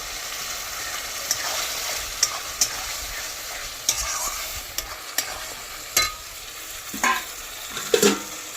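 Chopped tomato stirred into sizzling mutton masala in a pan: a continuous frying hiss broken by repeated spoon scrapes and clanks, close and fairly loud.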